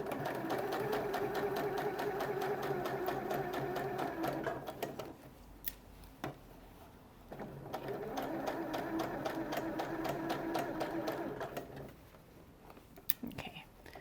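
A sewing machine runs in two long stitching bursts, stitching a strap with the facing up on an Ettle sew-along garment, a steady close rattle separated by a short pause with light handling noise.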